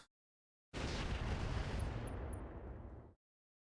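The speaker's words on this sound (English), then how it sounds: "Firing all weapons." Mech weapons firing all at once in the Roguetech video game, a single loud, dense roaring burst lasting a few seconds after silence, then cutting off abruptly.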